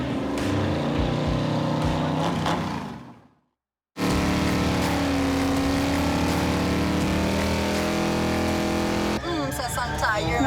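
A race car on a drag strip roars loudly with a sustained engine drone, cuts to near silence for a moment, then roars again as speech is heard alongside it.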